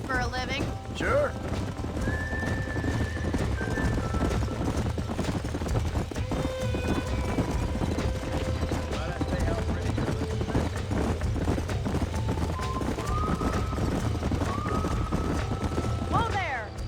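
Horses in the Red Dead Redemption game clip-clop steadily on the ground, with whinnies and neighs rising over the hoofbeats and background game sounds; voices are heard in places.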